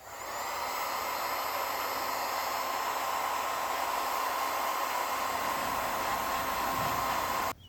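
A heat gun shrinking heat-shrink tubing on relay wiring for a four-wheeler LED light bar blows with a steady, airy whooshing hum, moderately loud and continuous, then cuts off abruptly at the end.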